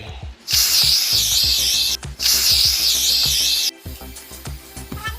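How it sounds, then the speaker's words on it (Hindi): Cream-coloured spray paint hisses from an aerosol can onto a handmade model house in two long, loud bursts with a short pause between them, followed by softer rubbing and handling noises. "फिर हम लाए स्प्रे जो क्रीम कलर का था और हमने करे अपने घर पे"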